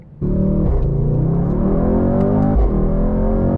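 A Mercedes AMG GT 63 S with 4MATIC, in Sport Plus mode, accelerates hard: a loud, close engine note climbs steadily, dips briefly at a quick gear shift, then keeps rising before cutting off.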